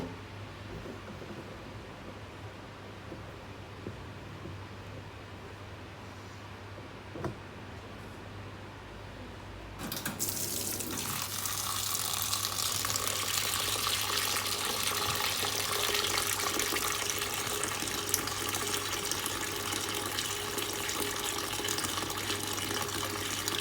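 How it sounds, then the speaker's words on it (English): Beans being washed under a running kitchen sink tap before cooking: quiet room tone, then the faucet opens and a steady, loud rush of water pours for the rest of the stretch, with no talking. "To start with, I'm going to wash these beans."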